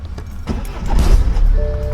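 A BMW 116d diesel car starts at the press of its start button: a short crank swells into a low, close engine rumble that settles into idle.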